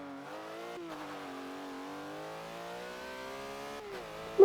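A race car engine in Forza Motorsport 7 holds a steady, tonal drone that climbs gradually in pitch through a few gear shifts, ending with a brief louder burst.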